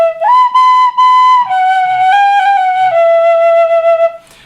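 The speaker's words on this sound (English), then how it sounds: "you know, I play Scarborough Fair." Tin whistle playing the melody of Scarborough Fair, a clear, bright solo line of sustained, slightly breathy notes with smooth slides between pitches, close and loud, ending with a brief fade.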